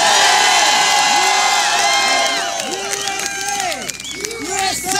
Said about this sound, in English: A round of applause for America.